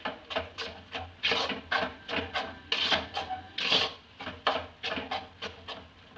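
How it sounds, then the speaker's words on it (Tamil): A spoon scrapes and stirs egg semiya upma mixture in a pan, making steady rhythmic scraping and rubbing strokes, close and moderately loud, with no one speaking. "நல்லா இது மாதிரி மிக்ஸ் பண்ணிக்கிறேங்க."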